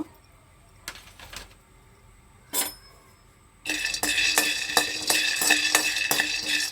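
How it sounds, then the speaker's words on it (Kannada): Peanuts roast in a hot pan on a stove. A few sparse clinks give way to a dense, continuous rattling scrape as the nuts are stirred briskly up close. "ಕಡಲೆಕಾಯಿ ಬೀಜ ಹುರ್ಕೊಳ್ಬೇಕು"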